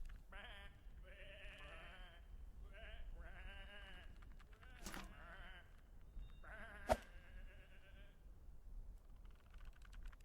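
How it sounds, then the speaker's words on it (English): Sheep bleat repeatedly in the video game Whateverland, a series of wavering, quavering calls at moderate level, joined by a couple of sharp clicks and brief speech. "Come on, these are just sheep."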